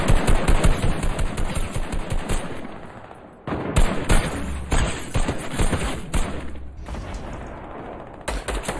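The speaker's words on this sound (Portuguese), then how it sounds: "eles mudaram o áudio da M4" M4 rifle fire in the Fortnite video game: rapid, loud bursts of automatic gunshots in quick rhythmic strings, briefly pausing before resuming, with no speech over it.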